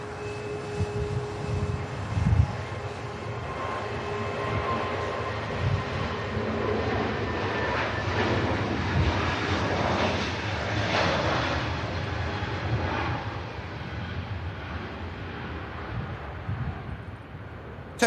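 A Turkish Airlines jet lines up and departs Manchester Airport for Istanbul, its engines a continuous broad roar that swells and holds at moderate distance, with no talking.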